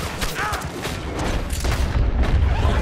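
Gunfire in Red Dead, a western video game: a few heavy booming shots over dense, rumbling game noise, with some faint voice activity mixed in.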